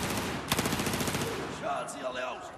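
Rapid automatic gunfire in the video game Battlefield 4: a dense, loud burst of rattling shots that fades into scattered game noise and echoes, with some talk underneath.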